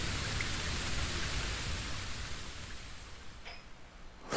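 Steady hiss of heavy rain in the video game BLEACH: Rebirth of Souls fills the scene, easing and thinning toward the end, with a faint brief chirp near the close.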